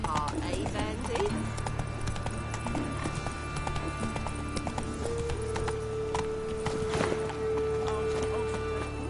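Roach, the horse in The Witcher 3, moves with steady clip-clopping hooves under game ambience while character voices talk over the hoofbeats.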